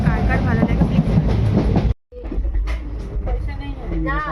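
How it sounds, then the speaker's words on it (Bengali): A passenger train heard from inside the carriage on a trip to Shantiniketan, with a steady rumble and wheel clatter, a brief dropout midway, and faint voices in the background. "আমরা এখন আছি ট্রেনে, আর ট্রেনে অনেক দিন পর যাচ্ছি"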